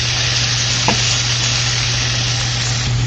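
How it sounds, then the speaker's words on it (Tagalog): Onions sautéing in a pan for a garam masala chicken dish, a steady loud sizzle and crackle of frying that runs unbroken throughout, with a low steady hum underneath. "Then, igisa natin ng onion hanggang sa hindi mag-light brown."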